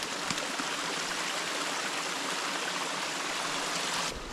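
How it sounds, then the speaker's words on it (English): Two brooks merge and tumble over a small wilderness waterfall, a steady, close rushing hiss of flowing water that holds constant, then cuts off at the end, with no talking. "There's a waterfalls here."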